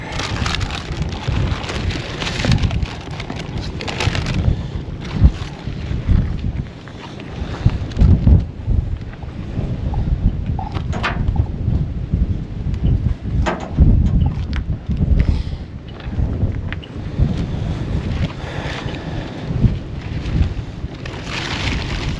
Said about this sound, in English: It's a windy day here. Very windy.